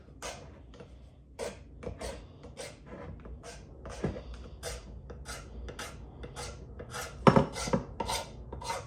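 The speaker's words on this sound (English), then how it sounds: "that lacquer was on there and we're trying to scrape it off" Repeated rasping scrapes as old lacquer is scraped off a wooden axe handle near the head, about a dozen short strokes in an uneven rhythm, close and moderately loud, with no talk.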